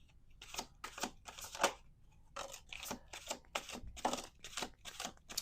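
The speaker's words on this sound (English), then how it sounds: "We're going to do two more shuffles here." A deck of playing cards is shuffled repeatedly at close range, quick riffling bursts in a steady rhythm, fairly soft and without speech.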